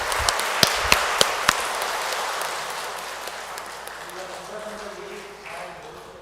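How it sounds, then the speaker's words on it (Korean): A few sharp claps ring out, then a dense wash of audience applause in a Catholic church during Mass that slowly fades over several seconds. "큰 박수 부탁드리겠습니다"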